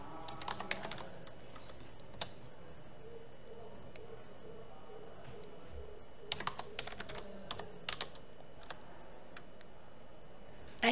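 Sparse, soft clicks from a computer keyboard as a C program is typed, with scattered single taps and a few brief flurries over a faint steady hum, and no talking.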